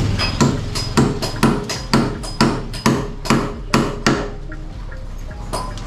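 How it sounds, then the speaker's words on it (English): New 4-inch nails are hammered into a mahogany wood door frame, about a dozen sharp, evenly spaced blows ringing close and loud, then stopping. "hammering in some brand new 4-inch nails around the outside of the door frame"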